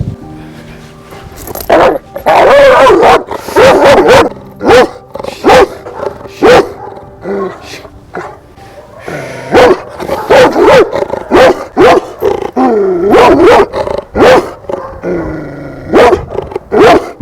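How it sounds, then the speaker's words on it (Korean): A dog barks again and again in sharp, loud bursts, close by, with brief pauses and some growling and whining between the barks. "이런 식으로 계속 짖는다라는 거예요"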